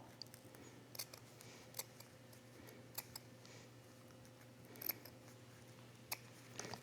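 Scissors snip through a single layer of fabric to cut a small circle for a rivet hole on a sewn makeup bag, giving faint, close, irregular clicks and snips spread across a quiet background.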